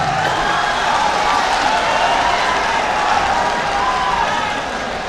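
Sustained crowd applause welcoming a poet at a Lucknow mushaira, a dense, steady wash of many hands clapping that stays loud throughout and eases slightly near the end.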